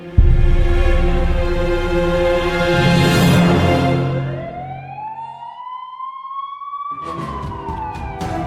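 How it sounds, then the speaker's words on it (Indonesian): An ambulance siren wails loudly and close by, its rising and falling tone sweeping upward and then holding, with a burst of clatter near the end. "Ambulan."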